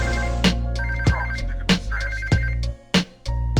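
A cell phone ringtone plays loud and close, a repeating electronic melody with sharp rhythmic hits about every half second, and no one talks over it.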